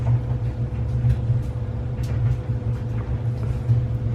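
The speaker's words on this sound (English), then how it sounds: "Excuse my the noise in the background." Household clothes dryer running in the background, a steady low rumbling hum with a faint rhythmic tumble, continuous throughout.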